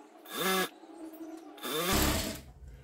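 Sewing machine stitching patchwork fabric, two whirring runs of rising motor hum with a rapid needle chatter, separated by a short pause, close but fairly quiet and without speech.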